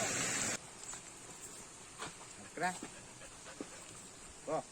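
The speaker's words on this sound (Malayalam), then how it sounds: "എന്റെ ഇടക്കേ കയറി പോന്ന ആ നായി നമ്മളെ വീട്ടിലത്തെ അപ്പു നായിയാണ്." A dog lets out a couple of short, high whimpering yips close by, separated by quiet rustling and soft breathing.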